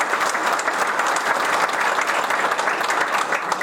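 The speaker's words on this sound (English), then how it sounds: "I think they deserve another round of applause." Sustained applause from a seminar audience fills the room, dense and steady from start to finish with no speech over it.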